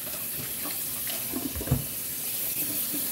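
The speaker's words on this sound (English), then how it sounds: "Wash my hands." Kitchen tap water runs steadily into a sink while hands are washed during cooking, a continuous close hiss with faint splashing changes and no talking.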